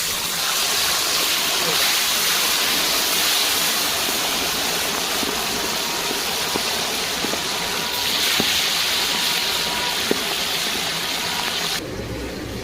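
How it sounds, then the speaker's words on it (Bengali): Fish fries in oil with a dense, constant, loud sizzle and hiss close by, broken only by a few faint clicks and a slight drop near the end. "লাল লাল করে ভাজা হচ্ছে।"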